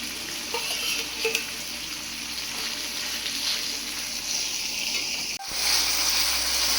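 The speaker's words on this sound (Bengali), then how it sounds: "চিংড়িটাকে ভালো করে পরিষ্কার করে ধুয়ে নিয়ে নুন হলুদ মাখিয়ে মা এটাকে একটুখানি তেলের মধ্যে সাঁতলে নিচ্ছে, হালকা ভাজা করে নেবে।" Chapra prawns coated in salt and turmeric fry lightly in a little oil, giving a steady, close, moderate sizzle and hiss. One brief utensil knock sounds midway, and the hiss swells slightly afterward.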